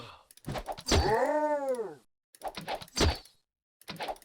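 A cat in the video game Might and Magic VI gives a loud, drawn-out meow followed by further short cat cries and thuds, close and clear.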